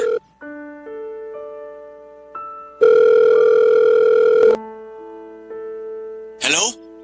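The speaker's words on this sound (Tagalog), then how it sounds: "Ayun, nagring." A telephone sounds a series of electronic tones, steady notes that shift pitch, followed by a louder sustained ringing tone, then a short burst of noise at the end, close and clear.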